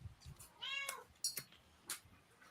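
A cat meows several times in short, quiet, separate calls, close and clear against a hushed background.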